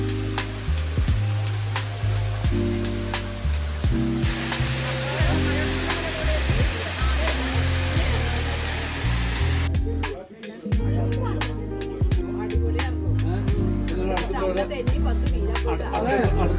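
Muddy water tumbling over a small waterfall near Vattavada, a steady loud broadband rush that stays close and constant, with a brief dip midway before the roar resumes.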